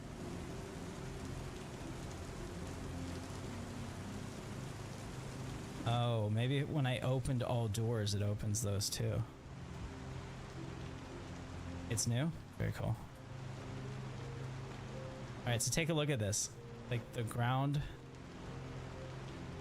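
Steady rain falling in the Star Citizen video game during a storm, a constant hiss throughout, partly under someone talking close by.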